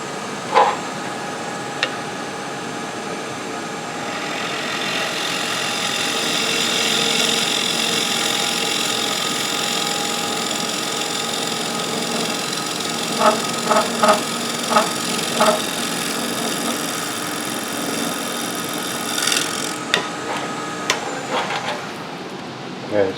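A wood turning tool cuts a natural edge cap ornament spinning on a lathe, giving a steady, loud motor hum and cutting hiss that runs throughout, with a few sharp ticks and knocks near the end.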